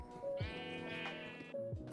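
Sheep in the Minecraft video game bleat twice in a row, close and clear, with no other sound.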